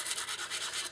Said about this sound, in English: scratch over with a fine sanding brush